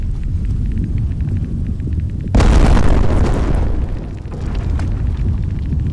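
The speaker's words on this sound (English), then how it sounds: "Well, it was an explosion instead, which was way worse." A loud sudden explosion bursts in the video game Misery, a booming rumble that decays over about two seconds after a quieter ambient drone.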